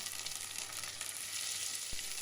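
Steady sizzling of garlic and a rosemary sprig frying in hot oil in a pan, a continuous crackling hiss with a soft clunk near the end.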